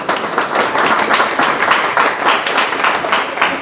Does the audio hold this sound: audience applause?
yes